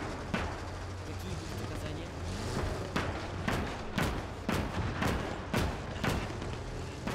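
Explosions and artillery-like booms in the WWII strategy game Gates of Hell: Ostfront, including a flak gun firing on a tank, come as sharp repeated thuds throughout, under lively players' chatter and laughter.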